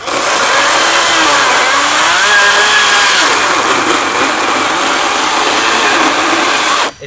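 An Echo 58V battery chainsaw runs loudly and close at full speed, a high electric whine that wavers and sags under load while cutting, then cuts off abruptly at the end.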